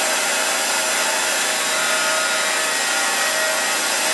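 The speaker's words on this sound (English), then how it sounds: "chamfer bit cutting the characters" A CNC router with a chamfer bit carves characters into a Douglas fir 2x4, making a continuous, loud, steady hiss and whine of cutting with no pauses.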